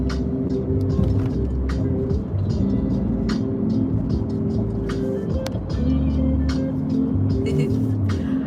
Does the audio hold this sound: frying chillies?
no